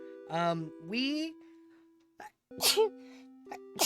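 A single sharp sneeze cuts in between bits of talk, with a person speaking before and after it.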